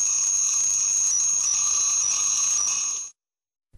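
Radar warning alarm tone released by Japan's defense ministry: a loud, steady electronic beep with bright harmonics that holds unbroken for about three seconds, then stops abruptly into silence.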